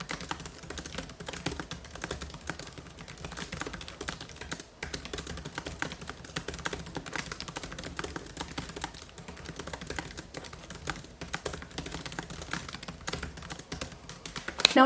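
Steady, close computer keyboard typing as a short story is written, with dense, continuous key clatter running for about fifteen seconds and no talk.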